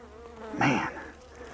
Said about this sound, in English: when I call bees that are angry, I call them hot